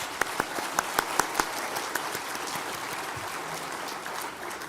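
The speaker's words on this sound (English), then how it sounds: "do a round of applause for all of the women who are working in the customer experience field" At a customer experience conference, a few sharp, rhythmic close claps stand out over a steady wash of distant crowd applause, which continues evenly after the nearby clapping stops.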